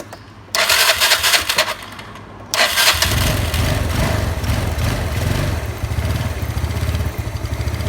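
An engine with a newly fitted carburetor cranks twice with a starter whir, catches on the second try, then runs and is revved up, loud and close.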